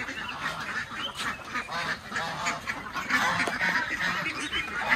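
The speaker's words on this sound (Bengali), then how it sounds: "দুই কালারের, একটা ব্ল্যাক একটা হোয়াইট, রাজহাঁস আছে" Black and white geese at a mini zoo honk repeatedly in a noisy, overlapping chorus, loud and close throughout.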